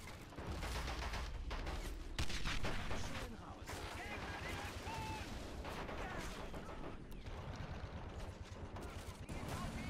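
Gunfire in World at War, with machine guns, a 20 mm gun and a sniper rifle all firing, a dense, unbroken barrage of overlapping shots and blasts that holds loud from start to finish.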